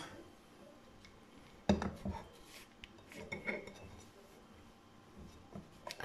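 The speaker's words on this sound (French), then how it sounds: "Je vais vous en couper un pour que vous voyez l'intérieur." A knife slices through a small alcohol-free Black Forest cake topped with a cream rosette and a cherry. One sharp clack comes from the blade meeting the plate, then soft, faint scraping and tapping follow.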